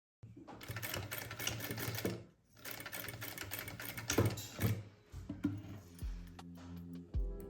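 Domestic sewing machine stitching shirt fabric, close and loud, in two rapid motor bursts followed by a slower run of stitches, with brief gaps between.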